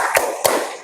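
Two sharp, crisp claps in quick succession from a group doing the 'tepuk semangat' spirit clap during a break in a class, close and bright with a short gap between them.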